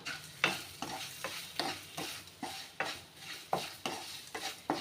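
Idli podi and mini idli stirred in hot oil, with a spoon scraping the pan in steady repeated strokes about every half second over a soft, continuous sizzle, close and fairly loud.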